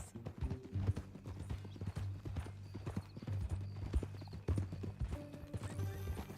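Horse hooves clip-clop steadily in Red Dead Redemption 2, a close, rhythmic walking gait with a tonal music or ambient hum underneath and a brief whinny-like sound near the end.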